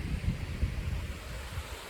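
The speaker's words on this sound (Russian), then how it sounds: "Вот вам море." Sea waves and wind on a wild shore, a steady rushing roar of surf with low gusty wind buffeting the microphone, continuous and fairly loud with no talk.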